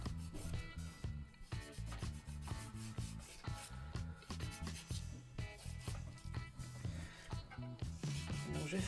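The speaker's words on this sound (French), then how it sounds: "reprendre donc votre lime pour retravailler le bord libre" Nail file rasping across the free edge of an acrylic resin nail during removal, a close, quiet rhythmic scratching in quick repeated strokes throughout.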